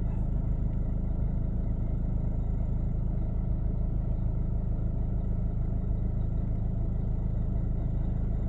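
A converted bus engine rumbles at a steady low idle while it is slowly manoeuvred in the dark, a constant close, heavy drone with no voices.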